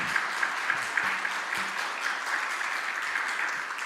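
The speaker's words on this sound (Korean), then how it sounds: "박수 칠 찬스" Congregation at a Sunday church service claps together in a steady, fairly loud round of applause, a dense continuous patter of many hands with a faint low tone underneath.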